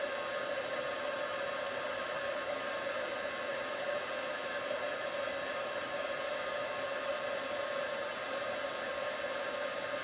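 Craft heat tool warming a stamped paper sentiment, a constant blowing whir with a steady fan tone, even and moderately loud for the full length, no talking.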